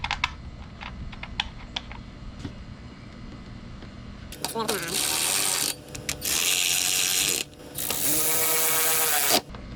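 Bolts being driven in during reassembly of a 2023 BMW S1000RR/M1000RR motorcycle, heard as rapid ratcheting and clicking bursts, first faint tapping then loud sustained runs broken by short pauses, close by.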